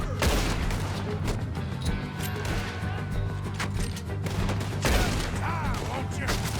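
Gunfire rattles through a Red Dead Redemption 2 shootout, loud overlapping shots and bursts firing continuously over a dense game soundscape with a low music bed underneath.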